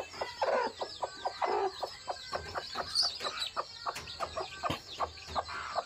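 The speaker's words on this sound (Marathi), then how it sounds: "ही पिल्लं सर्व त्या कोंबडीची आहे" A native desi hen clucks repeatedly in short, rhythmic bursts, with soft peeping chicks around her, close by and fairly loud, with no talking.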